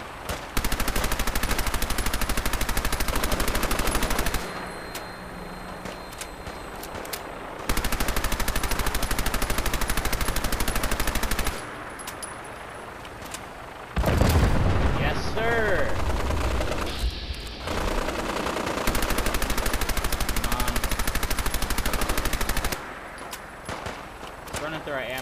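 Heavy automatic gunfire in a shooter video game, loud sustained bursts of rapid shots with brief gaps between volleys, alongside other game noise.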